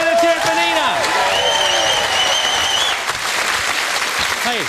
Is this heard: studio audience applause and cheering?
yes